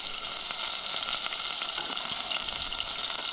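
Drained tuna with chilies sizzling steadily in a hot pan on the stove, a continuous close crackling fry with faint watery spatter throughout, no voices.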